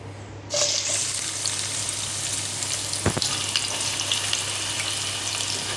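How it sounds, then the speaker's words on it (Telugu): Onions and green chilies hit hot oil with a loud, steady sizzle that carries on throughout, with a brief clink partway through. "ఉల్లిపాయ పచ్చిమిర్చి ముక్కలు అయితే తీసుకున్నానండి పోపుకి అయితే వేసుకుందాం"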